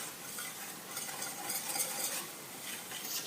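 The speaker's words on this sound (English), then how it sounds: "I'm just going to whisk those all together" Vanilla extract and two cold eggs are whisked together in a bowl, a steady soft swishing and tapping that runs continuously and close without pauses, with no voices.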